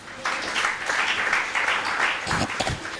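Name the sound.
congregation applauding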